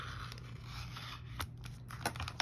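Scissors snip and scrape faintly at a taped package, a few quiet crisp cuts and rustles over low background hum.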